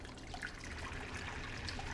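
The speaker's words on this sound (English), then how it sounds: "I got some hot water, and I'm going to put it into our pot and let it come to a boil." Hot water streams from a kettle into a cooking pot in a home kitchen, a steady trickling pour lasting a couple of seconds, close and fairly quiet, with no talking.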